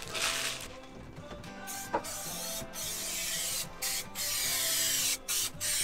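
Spray adhesive hisses from a can aboard a catamaran sailboat being refitted with Reflectix insulation, coming as several close, loud bursts separated by short pauses.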